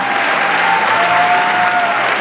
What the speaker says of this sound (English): Big round of applause for our Bayonetta cosplayer.